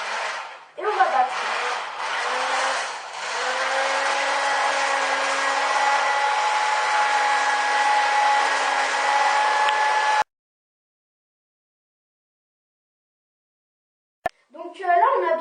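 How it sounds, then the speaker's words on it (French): Electric hand mixer whipping cream into chantilly for a Nutella tiramisu, a steady motor whir running for about ten seconds before it cuts off, followed by silence and a brief clatter at the end. "on va prendre votre batteur électrique ou le siphon et on va battre"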